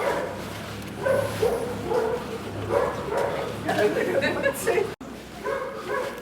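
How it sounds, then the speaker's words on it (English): An angry German Shepherd barks in scattered bursts at a distance on a colourful North Sea coastal path, mostly beneath steady talking and outdoor background noise. "So the barking that you heard is from that dog."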